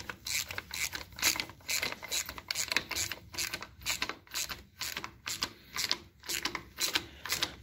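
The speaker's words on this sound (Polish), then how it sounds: "Teraz już dokręcamy. Dokręcamy śruby." A ratchet wrench tightens bolts on a Fendt 515c tractor during a heavy rebuild, with rapid, close clicking in repeated bursts and short pauses between strokes.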